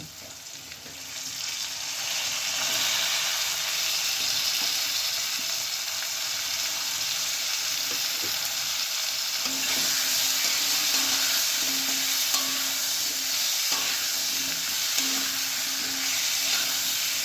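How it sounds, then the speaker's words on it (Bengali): Potatoes and flat beans fry in a pan, a continuous, dense hiss of sizzling oil that stays close and steady throughout, with faint stirring knocks underneath. "শিম আর আলু একটুখানি ভেজে নেব।"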